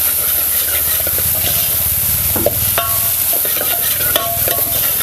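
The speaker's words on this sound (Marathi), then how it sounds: "चांगलाच आपण हे परतून घेऊया आलं लसूण आणि खोबरं" Ground ginger, garlic and coconut sauté in a hot pan with a constant loud sizzle and hiss, broken by a few sharp scrapes and clinks of stirring.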